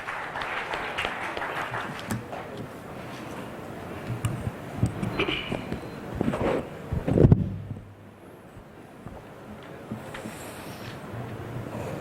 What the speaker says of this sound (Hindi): कृपया तालियों के साथ मेयर साहब का एक बार स्वागत कीजिए।